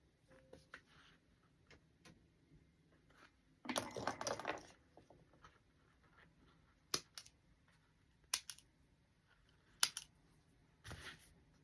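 Small scissors snip leftover threads shorter while making a card-slot wallet: a handful of crisp, isolated clicks spaced irregularly over a quiet background, with one brief rustling burst of handling noise in between.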